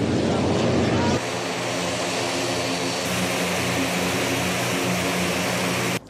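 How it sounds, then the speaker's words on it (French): A CASA C-295 military propeller airplane in flight fills the cabin with a loud, steady engine drone and propeller hum that holds continuously throughout. "L'avion militaire fait un trajet d'1h30 avant d'atterrir à Kédougou."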